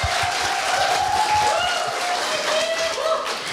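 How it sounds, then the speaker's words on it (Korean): Audience applause at a middle-school speech contest as the first speaker is introduced; continuous moderate clapping from a hall crowd, with a faint tone and a voice murmuring underneath. "많은 박수 부탁드립니다"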